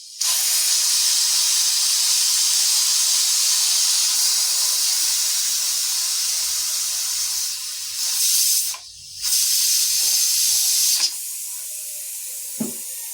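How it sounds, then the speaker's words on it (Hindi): Steam hisses loudly and continuously as it is released from a pot of matar pulao on a switched-off stove, a close, steady hiss with brief dips and interruptions near the end. "अब मैं इसकी स्टीम निकाल दूंगी।"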